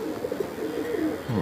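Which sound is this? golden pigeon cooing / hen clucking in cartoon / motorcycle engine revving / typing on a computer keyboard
golden pigeon cooing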